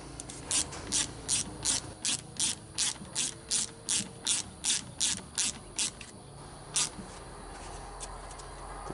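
Ratchet wrench clicking in a steady run of about fifteen quick strokes while snugging nuts on a Stihl FS 55 trimmer carburetor, then a pause and one last click, close and clear.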